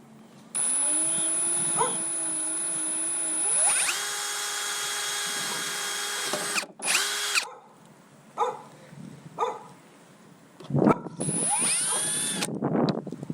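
Power drill whirring loudly in long sustained bursts, then stopping and restarting, while boring holes into a Jeep JL Wrangler body for a Rhino Rack Backbone roof rack install, with short clunks and handling noises between runs.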